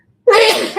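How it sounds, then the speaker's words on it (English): A single sharp human sneeze bursts out suddenly after a moment of silence, loud and close, trailing off quickly. "I'm going to sneeze again."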